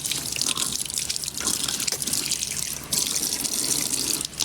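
Water runs steadily from a tap into a sink, a continuous splashing hiss with small drips and trickles, close and fairly loud, with no talking.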